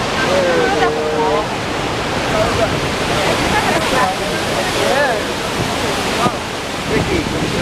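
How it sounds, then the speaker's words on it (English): A steady, broadband roar of falling water fills the clip, continuous and fairly loud, with people talking faintly over it. "You might be able to hear a roar in the distance. We've got a little waterfall coming up here."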